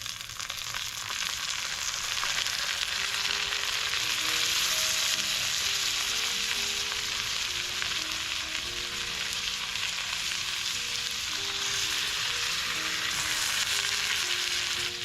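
Milkfish (bangus) sizzles loudly in a pan with pork fat, a dense, steady frying hiss close by that runs unbroken for the whole stretch, with faint tonal hum underneath and no talking.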